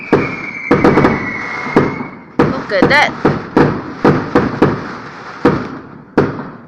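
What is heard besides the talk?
New Year fireworks exploding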